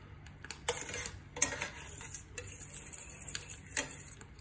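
Cognac steak sauce reducing in a pan while a utensil stirs it, giving quiet, irregular metallic clinks and scrapes against the pan over a faint bubbling background.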